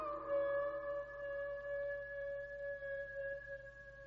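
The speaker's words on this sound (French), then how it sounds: "Les paysans disent que c'est le chien des Baskerville qui réclame sa proie." An eerie, drawn-out howl on a misty moor, attributed to the hound of the Baskervilles, wavering tonal cry with harmonics sustained for several seconds, distant and fairly faint, no speech.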